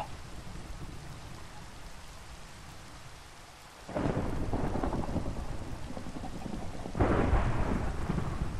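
Thunderstorm in the video game Minecraft, with steady rain hiss and two loud thunder cracks that rumble on after each strike.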